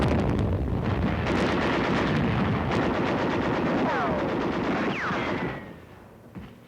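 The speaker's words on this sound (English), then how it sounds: "We rushed our artillery into place and let them have it." Heavy WWII artillery and gunfire at the Battle of Leyte: loud sustained barrages with rapid bursts and whistling shells. The roar fades away near the end, and no one speaks.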